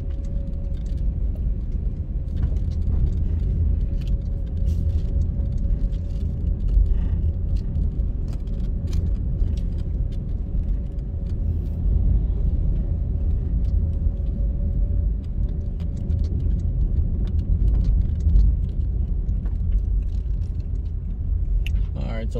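A car drives through residential community streets of Richmond Park in Kingston, Jamaica, its steady low road rumble and engine drone continuous throughout, with faint rattles and occasional light knocks from inside the cabin.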